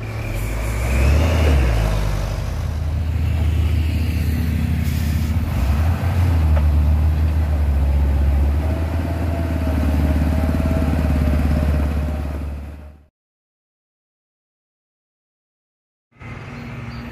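A Fuso HD truck rated at 220 PS roars loudly and continuously as it labors up the steep Bukit Tengkorak hill, then cuts to sudden silence before the engine noise returns near the end.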